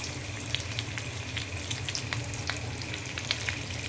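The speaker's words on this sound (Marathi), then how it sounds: "तर मी आता हे बांगडे त्याच्यात सोडणार आहे" Stuffed mackerel frying in hot oil on a tawa over a high gas flame, a continuous close sizzle dotted with sharp crackles and pops.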